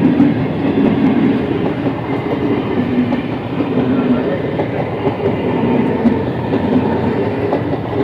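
A train rolls past on the rails, close by and loud, with a steady rumble and clattering wheels that last the whole stretch and a voice faintly underneath, heard near a market.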